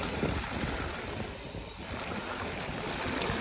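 Steady rushing wind buffets the microphone over the wash of sea water around a moving boat, loud and constant.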